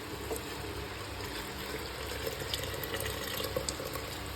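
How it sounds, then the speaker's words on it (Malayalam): Boiled water being poured into a pot of biryani, a steady close liquid pour and splash running the whole time with no talk. "നല്ല വെള്ളം തിളപ്പിച്ച് വെച്ചിന് ആ വെള്ളം ഇതിലേക്ക് ഒഴിക്കാം."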